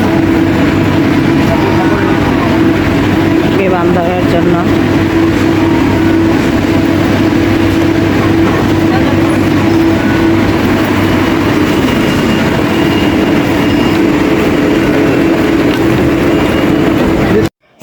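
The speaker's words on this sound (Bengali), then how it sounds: "কিছুক্ষণের মধ্যে আমাদের ট্রেন চলে আসবে ট্রেন চলে এসেছে" Heavy rumbling of a train arriving close by at a Kuala Lumpur airport rail station, steady and loud with a low droning hum and some rattling, continuing until an abrupt stop.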